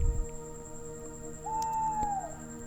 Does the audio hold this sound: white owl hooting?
yes